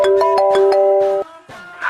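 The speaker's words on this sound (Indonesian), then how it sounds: "Dia telepon. Dengar ya bang suaranya." A mobile phone ringtone sounds for an incoming call, a melodic electronic chime that repeats in quick bright notes for about a second, then breaks off. A short pause follows, and softer sounds come up near the end.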